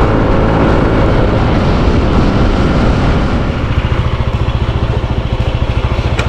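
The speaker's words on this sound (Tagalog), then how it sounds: "Ito yung ating motor." A motorcycle engine runs steadily and loud at close range in Taiwan, a dense rumble that settles into a rhythmic, pulsing idle partway through, with no voices.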